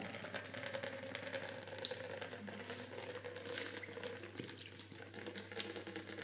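Water pours from a coconut drilled with two holes as a faint, continuous trickle and splash, steady and close, with no talking.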